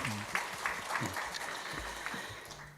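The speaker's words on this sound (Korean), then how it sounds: "다시 한번 주님께 박수로 영광 돌리겠습니다" A church congregation applauds during a Sunday service, a broad, steady clapping wash that fades slightly toward the end, with a few low voice-like tones at the start and near the close.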